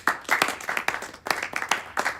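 A small audience at a film festival event claps, a short burst of close, uneven hand claps that swells and fades over a couple of seconds.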